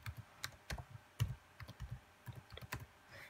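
Computer keyboard keys tapped one by one while entering an IP address into PuTTY, a sparse, irregular run of close, distinct clicks with short pauses and no talking.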